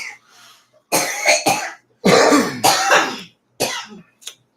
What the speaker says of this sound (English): for those of you who are concerned that the coughing will continue indefinitely